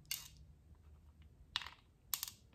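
Small stone picked out of black urad dal dropped onto a steel plate, three sharp bright clinks spaced apart, close and crisp against a quiet background.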